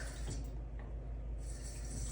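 Water poured from a tap into the empty wells of a mini cupcake pan, a steady soft splashing and hiss of running liquid, close and continuous.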